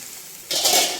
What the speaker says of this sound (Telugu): ఉల్లిపాయ కొంచెం వేగాలండి.